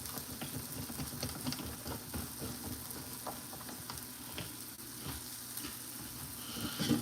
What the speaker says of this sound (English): I'm making them some strawberry pancakes.